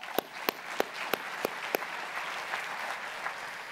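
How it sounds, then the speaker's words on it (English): Applause at a NASCAR racing banquet: six crisp, evenly spaced claps up front, then a softer wash of scattered clapping that fades, all faint and distant. "Give them a round of applause"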